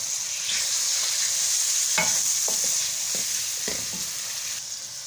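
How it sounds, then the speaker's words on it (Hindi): Spoon stirring chopped tomatoes and spices in a hot pan, with a steady background sizzle and a handful of distinct scraping strokes, close and moderately loud. "अब हम टमाटर के साथ ही मसाले शामिल कर देंगे और अच्छी तरह से मिक्स करेंगे"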